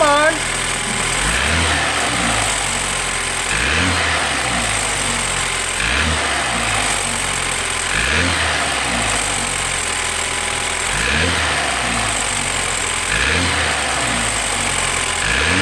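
Up close, the US-spec 2012 BMW 328i F30's N26 engine, which has a reported abnormal noise, is revved again and again in a regular rhythm, each short rise in pitch dropping back to idle, about seven blips in all.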